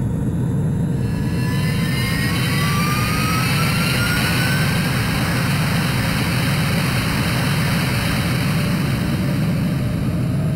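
A jet fighter in the Ace Combat 3 video game roars through its takeoff, a loud, steady, close engine rush with a rising whine sweeping upward across the clip and no voices.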